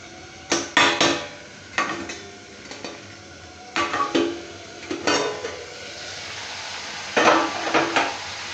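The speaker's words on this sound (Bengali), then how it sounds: "ভাজা ভাজা হয়ে গেছে, তেল ছেড়ে দিয়েছে।" Food fries in oil in a covered pan for a thin papaya-and-meat curry, low sizzling broken by repeated clattering bursts of a utensil against the pan and lid, close and with no talk.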